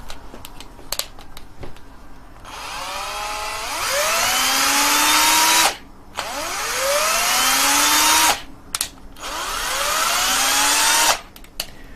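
An electric drill powered by an adjustable DC bench power supply spins up repeatedly in three long bursts, its whine rising in pitch as it accelerates, with brief clicks and pauses between runs.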